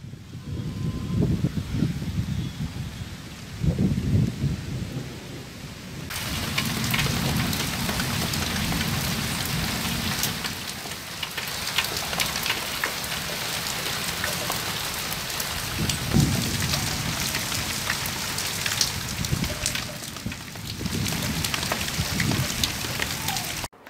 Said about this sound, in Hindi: बारिश के साथ आंधी भी थी और तेज हवा भी बही।